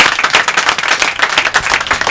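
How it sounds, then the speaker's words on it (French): An audience at a community meeting with Nathalie Kosciusko-Morizet gives her loud, close applause, a dense run of sharp individual hand claps in quick irregular rhythm that continues throughout. "réserver encore un tonnerre d'applaudissements à Nathalie Kosciusko-Morizet"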